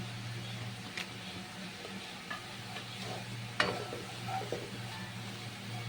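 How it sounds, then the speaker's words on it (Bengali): Spices and grated coconut fry in a pan over a medium gas flame for a rice pulao, giving a steady soft sizzle with occasional stirring scrapes and clinks, fairly close and without talk. "গ্যাসের ফ্লেমটাকে মিডিয়াম করে নিয়ে সব কিছু ফ্রাই করে নিতে হবে।"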